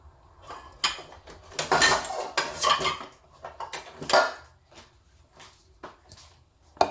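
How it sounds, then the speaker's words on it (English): Bowls and dishes clatter and clink as one is picked out from a stack in a kitchen, a close burst of ceramic knocks and scrapes with quieter gaps and a final small clink. "find myself a suitable bowl"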